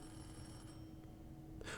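A telephone rings faintly inside the video game Forest Ranger Services, a quiet ringing tone over a soft, steady background hum.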